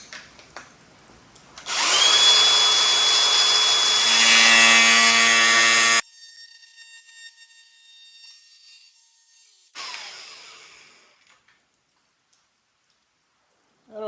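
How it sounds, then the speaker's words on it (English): An angle grinder cuts through metal on a dirt bike, a loud, steady high-pitched whine with a ringing tone that lasts about four seconds, then stops abruptly and leaves quieter handling noises. "I'm just going to take a grinder and cut her off."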